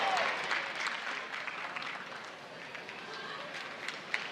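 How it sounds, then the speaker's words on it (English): Panther fans at a Notre Dame vs. Pitt ACC college volleyball match give a sustained round of applause in a large arena, steady crowd clapping and cheering that holds at an even level throughout. "Good sportsmanlike round of applause from the Panther fans."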